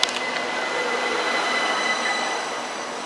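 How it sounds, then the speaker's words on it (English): A train running through Clapham Junction station, with a steady, loud rolling rumble and wheel noise filling the whole stretch and no voices. "Fast trains pass through the station"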